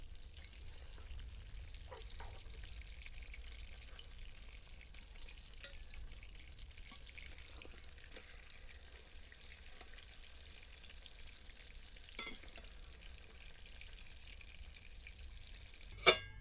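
Eggplant frying in hot oil, a faint, even hiss and crackle running steadily, with a single sharp clack near the end.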